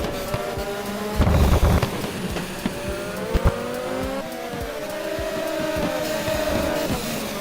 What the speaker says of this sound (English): Corone has spun out a bit and has lost a couple spots